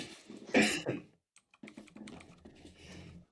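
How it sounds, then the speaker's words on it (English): Rapid typing on a computer keyboard for a typing app, with a close, dense cluster of key clicks, a brief pause, then a steadier run of lighter clicks. "I'm going to try to type faster just to be extra impressive"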